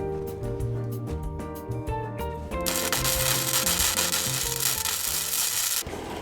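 Steady abrasive scrubbing on tacked metal before welding, a close, loud rasping that grows denser partway through and runs continuously with no talking.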